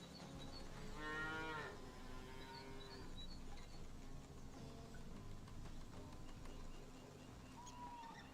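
Cattle mooing in the farming video game Farmer's Dynasty 2, a couple of long drawn-out lowing calls over a steady background hum, with a faint bird chirp, no talking.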